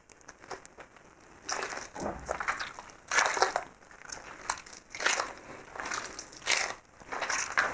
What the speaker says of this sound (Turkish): Şimdi yumurtaları teker teker kırıp hamura yedireceğim,